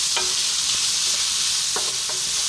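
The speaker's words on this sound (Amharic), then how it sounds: "ይህንም ለሁለት ደቂቃ እንጠብሳለን።" Onion, garlic and fresh chili pepper fry over medium heat for Chinese-style rice, giving a close, steady sizzle with a few light scrapes as the pan is stirred, and no talking.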